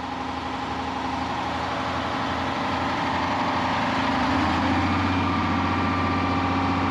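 The engine driving a sand dredge's auger runs at a steady idle, a loud continuous rumbling drone with a slight change in pitch partway through.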